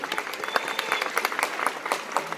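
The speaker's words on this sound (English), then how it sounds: "let's give them a wonderful round of applause" Steady applause from a crowd at a middle school graduation, many hands clapping in a dense, continuous patter throughout.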